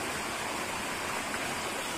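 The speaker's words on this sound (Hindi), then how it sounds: "अरुणाचल का वाटरफॉल" A small mountain waterfall and stream in Arunachal Pradesh, Northeast India, giving a steady, close rush of falling water as an even hiss with no talk over it.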